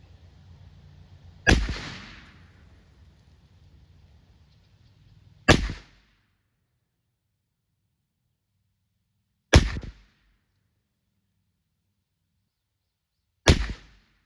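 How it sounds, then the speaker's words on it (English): Four sharp, loud gunshots from a .357 Maximum T/C Contender pistol firing Speer 158 TMJ loads, spaced about four seconds apart outdoors, each with a short decaying tail and silence between. "I felt a bit better about those shots."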